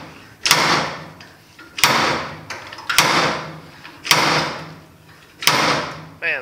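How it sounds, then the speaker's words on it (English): Five loud metallic slams at a steady rhythm as a slide hammer pulls on a bolt on a 1950 Chevy truck cab, each sharp strike followed by a short ringing decay, close up. "I'm gonna kind of pull on the slide hammer a little bit"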